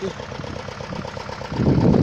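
A Xingtai 224 4x4 mini tractor engine idles nearby with a steady low rumble and fine rhythmic knocking, growing louder and rougher near the end.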